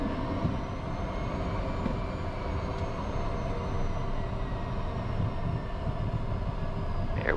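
A Cessna Citation private jet taxiing toward the runway: a steady, loud engine whine and rumble holds throughout without pause, heard from inside the aircraft, with faint high tones running above it.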